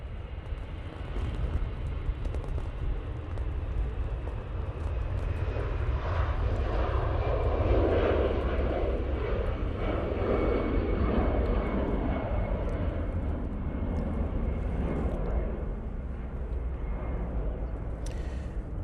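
An easyJet airliner departs Manchester Airport, its jet engines building into a long, swelling roar that peaks midway and holds steady and fairly distant, with no talk over it.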